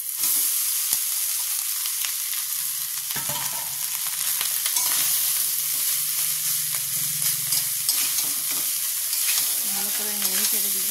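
Rice with turmeric being stirred and fried in a pan, a steady sizzle with repeated scraping strokes of a spatula, close and clear with no talking.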